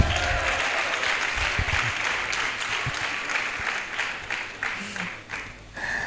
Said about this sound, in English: Can we give her a bigger hand?